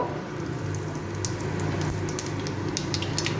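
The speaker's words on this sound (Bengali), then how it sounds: "তেলটার মধ্যে আমি অল্প একটু কালো জিরা দেব" Nigella seeds hit hot oil left from frying pomfret and crackle continuously, a close sizzle with scattered sharp pops over a steady hiss and no talking.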